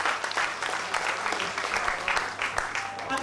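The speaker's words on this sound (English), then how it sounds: "Ladies and gentlemen, a big, big round of applause." Audience at a high school 15th anniversary staff banquet applauding a guest speaker, with steady sustained clapping from a fairly large crowd filling the room and a voice briefly heard over it.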